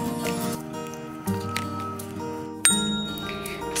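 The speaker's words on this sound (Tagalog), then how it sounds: "So ayan guys, may nag-doorbell no?" A doorbell chimes in a quarantine hotel room at Clark International Airport, giving a couple of sharp, ringing tones that sound close over a steady humming background.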